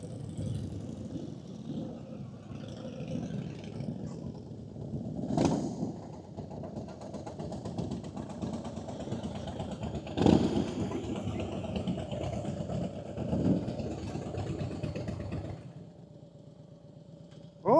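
Harley motorcycles sit idling at a bike meet, a faint low rumble that holds steady throughout, broken by a few brief louder bumps.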